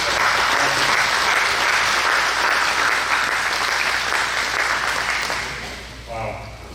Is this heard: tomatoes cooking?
no